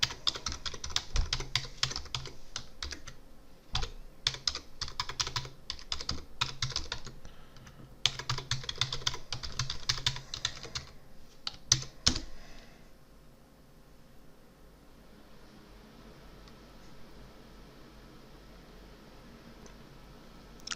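Fingers clatter across a computer keyboard entering a username and password, bursts of close, rapid keystrokes with short pauses, then quiet room hiss for the last several seconds.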